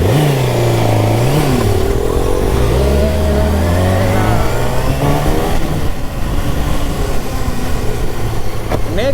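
A Kawasaki ZX6R motorcycle revs and rides, its engine loud and close, with pitch climbing and dropping through gear changes against wind rush.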